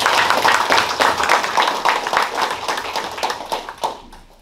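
An audience claps at the 10th anniversary ceremony of No Gun Ri Peace Park, a close, brisk round of hand claps that fades and thins out toward the end.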